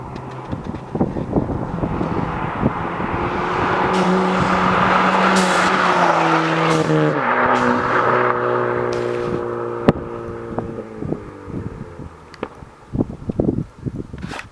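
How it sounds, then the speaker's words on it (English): Sam's car roars past at speed with a long engine note that swells, bends in pitch as it passes and fades, then a single sharp backfire pop near the end. "There's one little backfire."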